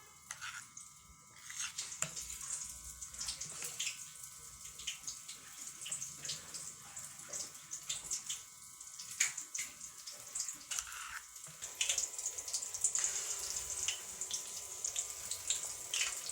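Sweet lentil-filled dumplings dipped in batter and frying in hot oil, a faint continuous sizzle and crackle with small pops, growing a little louder toward the end.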